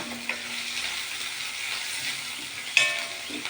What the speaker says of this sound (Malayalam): പച്ചമുളക് ഇഞ്ചി വേപ്പില വെളുത്തുള്ളി ചതച്ചത് എണ്ണയിൽ കടുക് പൊട്ടിയതിന് ശേഷം ഇട്ട് കൊടുത്ത് വരട്ടുകയാണ്